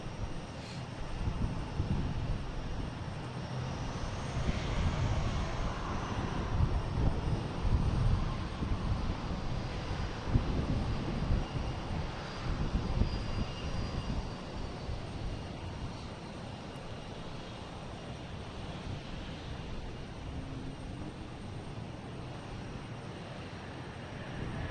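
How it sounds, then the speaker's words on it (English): Jet airliner taking off at Boston Logan Airport, a broad steady engine roar that swells and fades over the whole stretch, heard from a distance with some wind noise. "We got a takeoff here."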